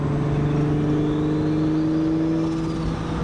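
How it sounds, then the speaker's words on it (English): A Datsun car cruises in fourth gear at about 60 mph, its engine a steady, loud, even drone well under 3,000 RPM, with no change in pitch throughout. "So I'm basically driving it like a 4-speed now. I'm in 4th gear."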